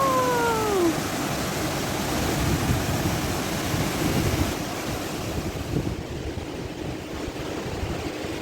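Waterfalls and cascades running full after spring rain give a loud, steady rushing roar throughout, broad and unbroken, with some wind buffeting the microphone.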